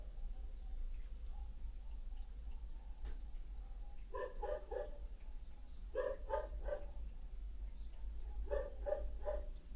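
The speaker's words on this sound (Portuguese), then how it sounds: "tem cachorros agora na vizinhança latindo" Neighbourhood dogs bark in three separate bursts of rapid yaps, each a quick run of three or four barks, coming from some distance over a low steady hum.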